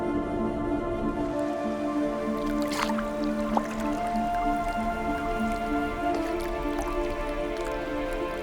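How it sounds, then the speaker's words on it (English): A sea otter chews through a hard sea urchin shell with its chiseled teeth, making wet squishing and crunching noises with a few sharper cracks, close and steady, over sustained tonal background music. "They crunch through the hard shell with uniquely chiseled teeth"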